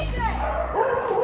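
A small dog barks close by with a couple of quick, high yips and whiny barks in a brief burst, fairly loud against a busy indoor background.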